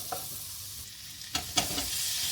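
Onion and broccoli lightly sautéing in a pan, heard as a soft steady sizzle with a few sharper stirring scrapes near the end, fairly quiet and close, with no talking.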